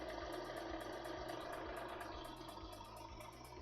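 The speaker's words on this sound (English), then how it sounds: "which starts the engine." Model engine sound from a Tamiya Scania RC truck's sound unit, a steady mid-pitched diesel idle with a regular chugging pulse throughout, loud and close with no talk.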